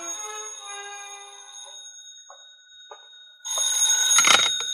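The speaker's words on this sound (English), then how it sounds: "when the phone rang" An old-time radio drama telephone rings in a burst of bright electronic chirping at the end, following a quieter stretch of sustained ringing tones; no one speaks.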